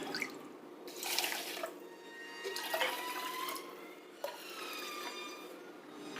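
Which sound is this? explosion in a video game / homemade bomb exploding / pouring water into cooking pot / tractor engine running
pouring water into cooking pot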